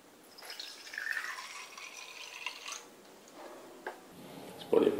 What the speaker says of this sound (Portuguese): A água vai ser colocada aqui na parte de baixo